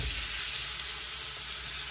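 Shrimp fry in hot oil for a poboy, giving a dense, steady crackling sizzle that stays close and loud throughout without any voices.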